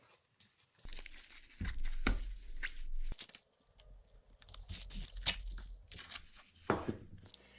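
A glued plastic sheet, warmed to about 50 degrees Celsius, is peeled off the bottom of a battery module in several quiet bursts of tearing and crinkling separated by short pauses.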